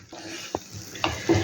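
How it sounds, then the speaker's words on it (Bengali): Mustard-poppy paste sautéing in hot oil for tangra fish curry: a soft steady sizzle with a few brief scraping stirs of a utensil against the pan, close and fairly quiet. "এইবার এটা একটু সময় তেলে সাঁতলে নেব এটাকে"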